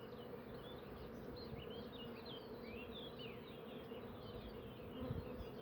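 Honeybees from a hive on small nucleus boxes with supers added in spring, a steady dense buzz of many insects close by, continuous and even throughout with no talking.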